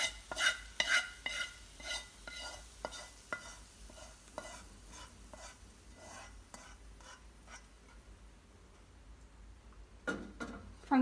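Fried garlic scraped from a frying pan into a bowl with a utensil: a run of quick, close scraping and tapping strokes that thin out midway, then a louder burst of scrapes at the end.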